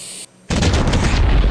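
Fireworks going off in the video game Fireworks Mania: after a brief quiet gap, a loud, dense crackling and booming burst of explosions that continues steadily with no speech.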